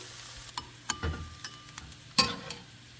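Egg for street-style fried rice crumbles and fries in a pan, a faint low sizzle with scattered sharp spatula taps and scrapes, heard close and quiet without speech.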